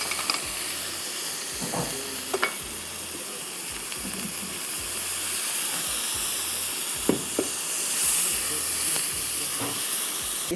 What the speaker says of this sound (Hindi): अब इसमें जा रही है लाल प्याज